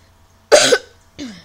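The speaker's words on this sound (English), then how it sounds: "Still coughing" A single harsh cough, then a shorter second cough about half a second later, close and clear against near silence.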